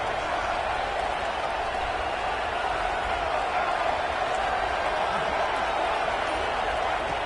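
Loud, continuous roar of a large stadium crowd at an American football game during a red zone defensive stand, a dense wall of cheering and noise that holds steady throughout.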